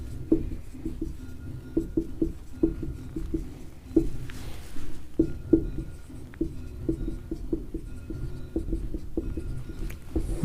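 Chalk or marker strokes on a board as a maths question is written out for a REET algebra lesson, a steady run of short scratchy taps and squeaks in irregular bursts, close and fairly quiet, with no talking.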